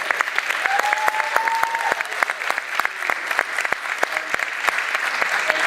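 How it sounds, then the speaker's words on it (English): A small audience at a public meeting about saving Southall Town Hall applauds steadily, with sharp individual claps standing out against a murmur, and a voice briefly heard beneath. "applauding the contributions of Paul, Suresh, and Oliver, and of everybody else?"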